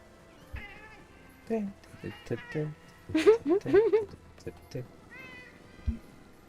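A cat meows several times in a cluster of loud, wavering cries between quieter tonal sounds, with people talking around it and a voice mimicking the meow.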